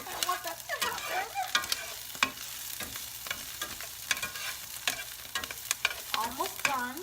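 Clams with sauce stir-frying in a pan, a steady sizzle broken by frequent scraping stir strokes and clatter, close up, with no talking.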